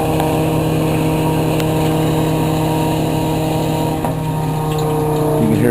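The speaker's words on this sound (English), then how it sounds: "as we're pumping, we're still running the centrifuge" A centrifuge on a waste oil fuel truck processor runs at high speed while waste oil is pumped out, giving a loud, steady machine whine and hum with a constant motor drone throughout.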